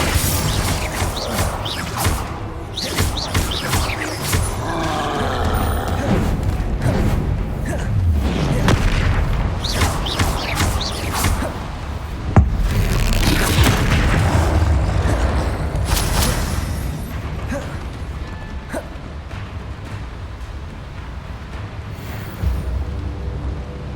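Bombarda explosion spell going off in Hogwarts Legacy, a loud booming blast within a dense, continuous layer of game combat noise with crashes and rumbles throughout.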